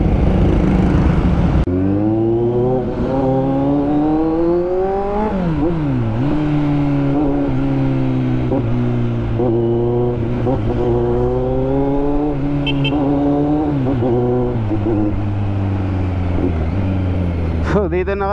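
A Kawasaki Z900 motorcycle with a new aftermarket exhaust revs repeatedly, its loud engine note rising and falling in several throttle blips over a steady idle, close to the microphone.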